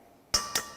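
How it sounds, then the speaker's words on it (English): An egg cracked against a bowl rim for muffin batter with avocado and Greek yogurt: two sharp, close taps about a quarter second apart, each with a brief ringing tail, in a quiet room. "Crack in your egg."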